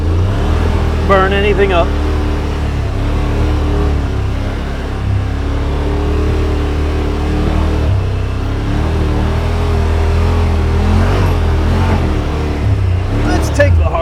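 A 2021 Yamaha Wolverine RMAX2 1000 side-by-side runs in low gear off-road, its engine droning steadily and close throughout, with someone talking over it.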